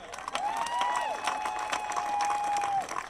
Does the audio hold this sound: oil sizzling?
no